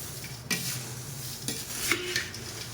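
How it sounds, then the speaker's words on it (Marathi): Thin-poha chivda snack coated in spices gets stirred and mixed in a pan. A few soft, distinct scrapes and rustles sound up close in an otherwise quiet kitchen. "अशा प्रकारे मस्त मिक्स करून घ्यायचे आहे आपल्याला"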